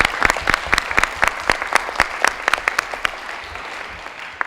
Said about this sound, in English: So could everybody please give Deb Williams a big round of applause?